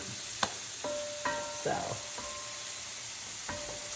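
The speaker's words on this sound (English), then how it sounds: "He's sauteing them up" Morel mushrooms sautéing in a pan with fresh garlic, a soft sizzle punctuated by a few sharp clicks and scrapes of stirring.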